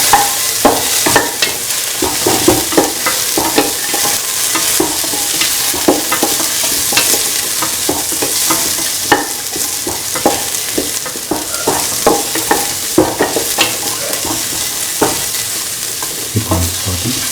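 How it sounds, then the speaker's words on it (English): Shallots, garlic and ginger sauté in a pan for a vegetable stew, giving a steady loud sizzle with frequent stirring scrapes and clicks throughout, and no talking. "Keep on sauteing."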